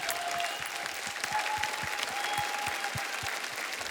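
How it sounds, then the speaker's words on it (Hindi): A studio audience bursts into dense, steady clapping for a comedy contestant act, sustained and even throughout with no pause. "जोरदार तालियां जय विजय के लिए।"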